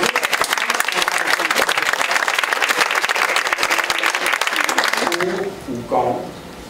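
An audience applauding candidates at the close of a debate, a full, steady burst of many hands clapping that cuts off abruptly near the end, followed by a brief voice.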